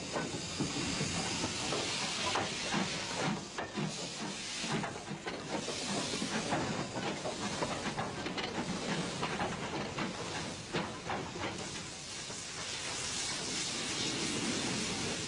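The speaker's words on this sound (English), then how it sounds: "the 284 tank comes in with the mixed going east up the valley" Steam tank locomotive arriving with a mixed train on a narrow-gauge valley line, a continuous broad steam hiss and rolling rail noise, fairly distant and steady throughout.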